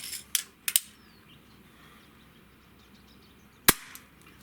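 A Weihrauch HW45 air pistol fires single shots, each a sharp, loud crack close by with a quick decay, with three reports spaced over the first second and one more near the end, quiet in between.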